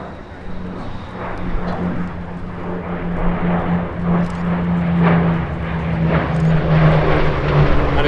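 A Hawker Hurricane propeller aircraft engine drones steadily at an airshow, its throaty roar building gradually louder over several seconds as if the plane draws nearer.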